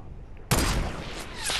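A single loud, sharp gunshot in the video game Fortnite, bursting from near silence and trailing off in a sustained rumbling echo, with no talk.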